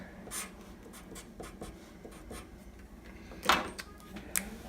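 Marker strokes squeak and tap on a board during a math lesson on factoring and common denominators, a series of short scratchy marks with a louder burst of writing near the end, close and fairly quiet.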